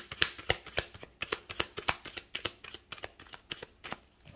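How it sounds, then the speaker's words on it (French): Tarot cards being shuffled by hand in a quick, steady run of crisp riffling snaps, close and clear, with no talking. "j'aime bien battre les cartes un peu plus longtemps"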